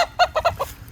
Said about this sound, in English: But they're pretty good roosters.